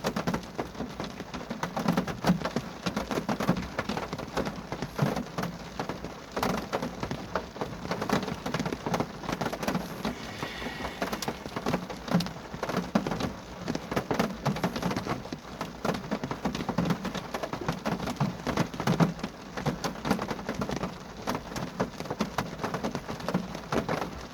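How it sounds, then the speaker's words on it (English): Steady, dense rain drums on a car windshield at night near a graveyard, a continuous close patter with no pauses lasting throughout, with no talk over it. "I can notice like the rain on the windshield"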